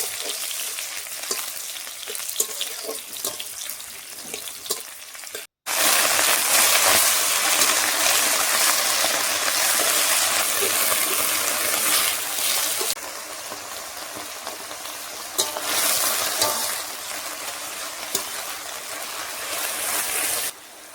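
Onions frying in oil in a wok, a steady loud sizzle with stirring scrapes, briefly cut off, then returning even stronger and continuing without talk.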